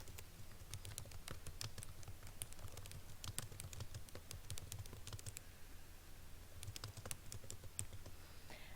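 Rapid, irregular keystrokes tap on a computer keyboard as a title is typed, close and fairly quiet, with short pauses between bursts and no talking.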